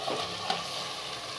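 Beef pieces frying in hot oil for a beef khichuri, a steady broadband sizzle with a brief clatter near the start, close and fairly quiet, no talking.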